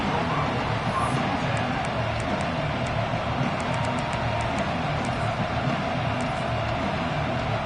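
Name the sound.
football stadium crowd cheering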